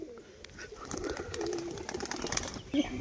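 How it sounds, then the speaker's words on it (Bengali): Pigeons, among them a large female, cooing softly in a loft with faint rustling and wing movement, low-level and close. "এই হচ্ছে মাদি পায়রাটা, কত বড় সাইজ দেখুন"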